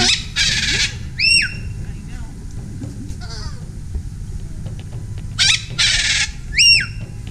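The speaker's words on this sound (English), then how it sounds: "He's a salmon crested cockatoo. Cockatoos are very vocal birds." Loud, harsh screeching calls from a salmon-crested cockatoo repeat in bursts, piercing and close, over a low background rumble.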